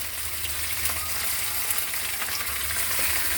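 Tender tamarind leaves fry in a pan with garlic and green chillies, giving a continuous dense sizzle and crackle close by, with no talking.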